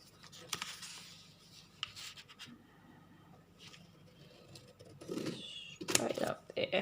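Scissors snipping through paper while making a junk journal pocket, short close crisp cuts and scrapes coming in bursts, loudest near the end, with quiet handling noise between.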